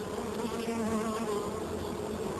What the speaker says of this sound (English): The native bee doesn't have a sting, and he looks like a little fly